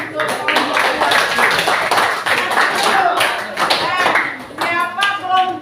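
Applause and clapping for a group of students who have just presented in a classroom, steady and close, with voices talking over the clapping.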